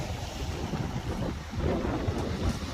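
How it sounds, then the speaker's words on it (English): Wind gusts buffet the microphone at a seashore fishing spot, a steady low rumbling roar with surging, uneven swells and no voices. "Sorry about any wind."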